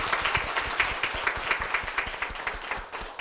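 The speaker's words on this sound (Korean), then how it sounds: "박수 부탁드립니다." Audience applause fills a church stage event as a deaconess is welcomed up, dense, steady clapping throughout at moderate loudness with a faint murmur of voices beneath.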